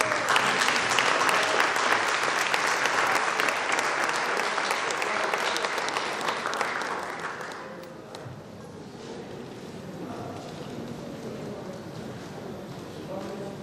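Dense, loud audience applause at an album launch gala night, a sustained wash of many hands clapping that fades down after about eight seconds into softer crowd noise with voices underneath.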